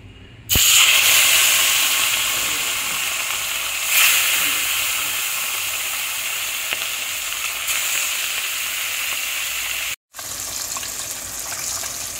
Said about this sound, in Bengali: তেল গরম হয়ে গেছে, এবার মাছগুলোকে এক এক করে ভেজে নেব।